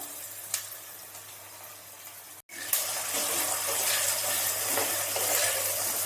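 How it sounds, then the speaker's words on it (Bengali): Diced medium potatoes dropped into hot oil in a pan, giving a steady broadband sizzle that jumps louder after a brief cut and keeps crackling evenly, close and without any talking. "তেল গরম হয়ে গেছে, এবার এর মধ্যে আমি আলুগুলো দিয়ে দিলাম।"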